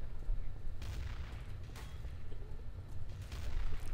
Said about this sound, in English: I hear a lot of shooting